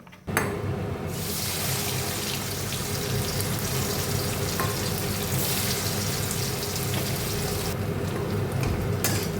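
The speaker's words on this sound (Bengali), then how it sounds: "কড়াইটা বসিয়ে কিছুটা তেল দিয়ে প্রথমে আমি পনিরগুলো ভেজে নেব" Paneer frying in oil in a wok on a gas stove gives a steady, dense sizzle that runs unbroken and fairly loud for the whole stretch, with no voices.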